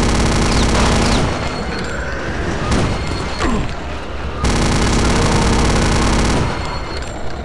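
Sustained rapid gunfire aimed at the boss Heimlich in Return to Castle Wolfenstein, loud and dense bursts of shots that keep going across the clip with only short breaks.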